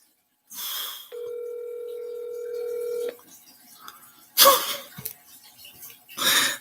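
A phone call rings out to a woman named Kelly: a steady tone for about two seconds, then a gap with faint noise, followed by bursts of rustling or breathy noise near the handset.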